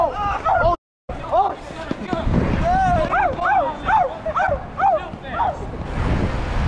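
A dog barks and yips repeatedly at passing cyclists, a run of sharp, close barks in rising and falling pitch mixed with whimpering, heard under nearly constant chatter and shouting from the riders.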